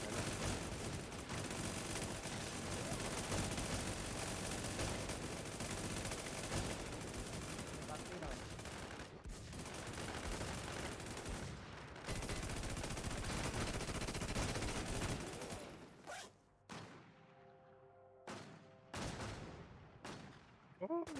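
Rapid automatic gunfire from a capture-the-flag video game match, dense and loud for about fifteen seconds, then breaking into separate sharp shots and short bursts with ringing tails, with game sounds and some voices mixed in.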